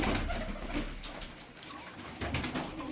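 Low, soft cooing of milk-white pigeons amid outdoor hiss and rustling, with a few fluttery bursts; no talking.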